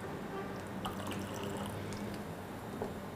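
A small splash of vinegar poured into a pot of water on the stove, heard as soft trickling and dripping over a steady background hiss, with no voices.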